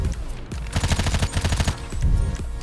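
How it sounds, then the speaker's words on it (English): Modded realistic gunfire in the GTA 5 video game: a rapid automatic burst of sharp, loud shots in a quick even rhythm, pausing briefly, then a heavier blast at the end. "it changes the sounds of the guns"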